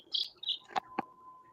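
Small pet chicks chirping indoors, a few faint high peeps and short tweets in quick succession, heard alone without talk.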